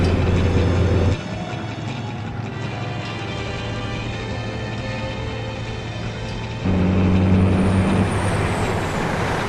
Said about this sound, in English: All we get is the frightening image of the truck and the